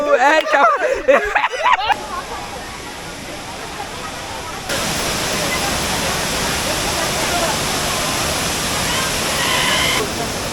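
A voice talks briefly, then a loud, steady roar of rushing water from the Savdav waterfall near Kankavli, Sindhudurg, fills the rest, close and constant.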